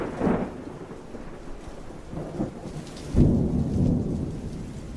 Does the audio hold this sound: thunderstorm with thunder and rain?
yes